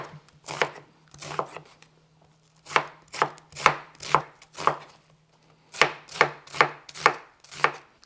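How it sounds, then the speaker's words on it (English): A knife chops onion on a cutting board in quick, close, crisp strokes, grouped in bursts with short pauses between, and nobody speaks. "Both onion is gonna be cut this way."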